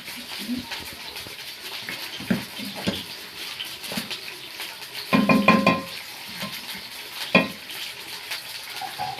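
Tomatoes going into garlic frying in a pan for an okra dish, with sizzling and stirring scrapes, several louder bursts of sizzle as they hit the oil, and a voice talking over the cooking.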